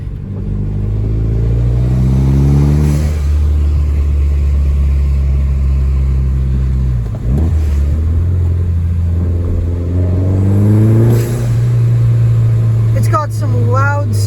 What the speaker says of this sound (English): I'm just going to put it in third gear around here and just spool up the turbo